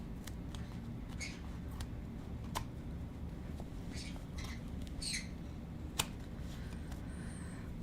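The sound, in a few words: pet birds squawking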